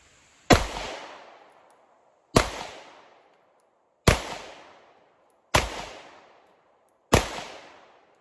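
Springfield Armory Hellcat Pro pistol fired five times at an outdoor range, target at 10 yards, each loud, close shot a sharp crack with a short decaying echo, spaced evenly about one and a half seconds apart.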